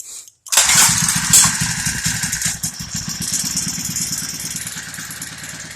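A four-stroke engine in a garage workshop catches with a loud burst about half a second in, then settles into a steady, rhythmic idle that continues on its own.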